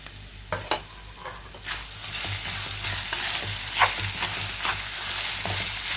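Grated raw mango sizzles in a pan for mango pulihora, with steady frying hiss and repeated scraping strokes from stirring at close range, and no voices.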